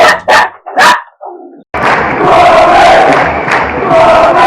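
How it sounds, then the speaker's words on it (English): Dogs barking at a pigeon in a garden: two loud close barks and a short whine, then a dense, sustained din of frantic overlapping barking. "the dogs apparently saw a pigeon in the garden and went nuts"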